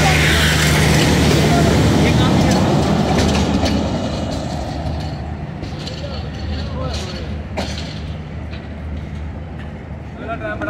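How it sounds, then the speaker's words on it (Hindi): A passenger train pulls out of a crowded railway station, its wheels and wagons rumbling loudly with steady clatter that eases slightly as it moves off, while people's voices carry over the noise. "ट्रेन जो है वो रवाना हो चुकी है"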